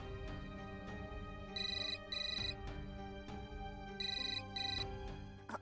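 Phone ringback tone on an outgoing call, a repeating electronic ring in two paired bursts over steady background music, with no talking.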